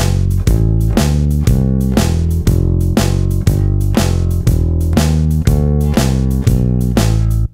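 Bass guitar plays a 12-bar blues turnaround, a run of plucked low notes in an even rhythm, loud and close with no talking.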